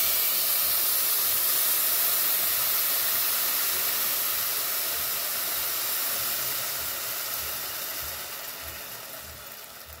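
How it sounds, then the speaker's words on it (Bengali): Cold milk hitting a hot pan of fried vermicelli and sugar, giving a loud, steady, broad hiss of steam that runs nearly the whole time and fades slightly toward the end. "চিনি দেওয়ার পর মিনিট খানিকের মতো ভেজে আমি এখানে ঠান্ডা দুধ দিয়ে দিচ্ছি 1 লিটার।"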